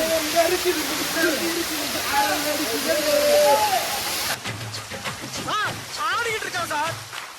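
Courtallam waterfall in Tamil Nadu pours and splashes as a steady broadband roar, loud and continuous, with people talking and shouting over it.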